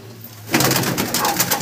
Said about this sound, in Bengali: দেখতে পাচ্ছ বন্ধুরা দাদার কাছে অনেকই পায়রা আছে